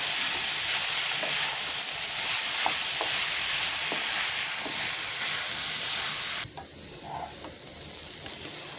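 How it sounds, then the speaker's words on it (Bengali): Chicken pieces and pulao rice fry in a hot pan with ginger paste, giving a loud, steady sizzle and hiss that continues without a break and drops slightly toward the end. "এখন মুরগির মাংস আর চালটা আমি একটু ভালো করে ভেজে নেব"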